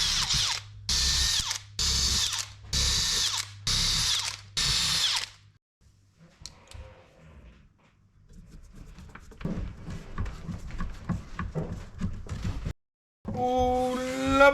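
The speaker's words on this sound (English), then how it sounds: "I'm going to use the self-centering drill bit" Several loud bursts of a power drill with a self-centering bit whirring in short pulses while fitting boat portholes with mahogany rings, followed by quieter tool handling and clatter, then a brief rising whir at the end.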